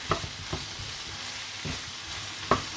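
Red pepper powder sizzles in oil in a frying pan during home cooking of İzmir köfte, a steady soft fry with a few brief stirring clatters.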